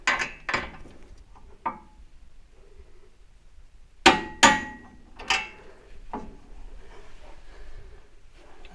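A torque wrench tightens a bolt to 45 foot-pounds on a C3 Corvette front suspension during steering knuckle, shock and hub installation. Sharp metallic clicks and clunks come in irregular bursts, with a cluster of loud clanks near the middle, close by and without talk.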